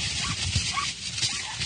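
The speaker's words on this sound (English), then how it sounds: "taped it, and that was the dog digging down to him" An avalanche rescue dog digs down through snow toward a buried volunteer, with close, continuous scratching noise and short whimpering, yipping dog sounds throughout.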